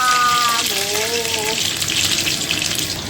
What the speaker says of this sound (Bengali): যখন রসুনগুলো একটু টেন্ডার হয়ে যাবে তখন শাকগুলো দেব এবার ছিটে পাবে